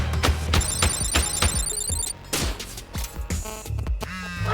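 A phone rings repeatedly in the Thirsty Suitors video game on Xbox, its electronic trill sounding in bursts over busy game music and effects.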